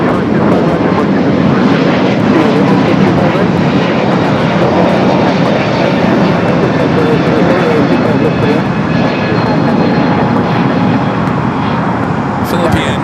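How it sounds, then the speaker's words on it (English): A United Airbus A321neo takes off at Los Angeles International Airport, a loud, steady jet engine roar that holds strong throughout, heard from nearby with faint traffic hum underneath. "We do have a United A321neo up next for takeoff."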